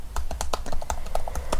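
Rapid clicking keystrokes on a computer keyboard while Python code is entered, a steady run of crisp, close taps with slightly uneven rhythm and no talk.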